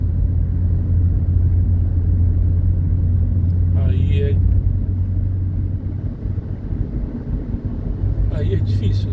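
Cars rumble past steadily on highway BR 153 near Uruaçu, a continuous low engine and road drone with a couple of brief higher whooshes as vehicles overtake; a voice speaks over it.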